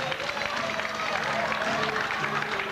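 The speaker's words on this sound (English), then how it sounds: "let's give them both a big round of applause" A comedy stage hypnotist show audience claps and cheers in a steady, dense wash of applause that fills the room throughout, with crowd noise underneath.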